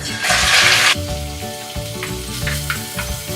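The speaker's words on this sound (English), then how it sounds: "so now that our oil's hot, we're going to take our bacon and just whack that in" Bacon hits hot oil in a pan with a sudden loud hiss lasting about a second, then settles into a steady, softer crackling sizzle with occasional pops.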